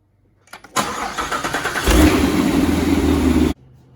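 Chevrolet Corvette C7 engine with a freshly installed ProCharger supercharger cranks and fires, catches with a loud burst, runs rough and loud for a few seconds, then cuts off abruptly.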